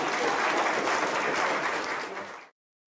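Sustained applause from a large crowd at a political event with Theresa May, dense and even for about two and a half seconds before cutting off abruptly.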